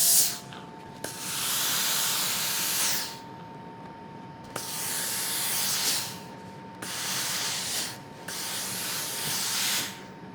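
A steam iron hisses in long bursts while pressing quilt block seams, four sustained sprays of a few seconds each separated by short pauses, close and loud.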